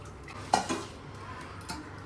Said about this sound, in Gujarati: વાસણ ઘસીને